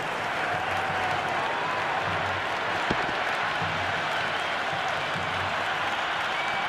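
Cricket crowd in the video game Cricket 26 roaring and applauding after a big shot, a sustained loud wall of clapping and cheering that holds steady for several seconds, with one sharp crack partway through.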